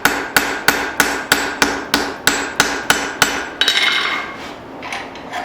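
A rounding hammer rings on hot steel over an anvil, a steady run of about a dozen sharp, evenly spaced blows while forging a hatchet, followed by a rougher scraping sound.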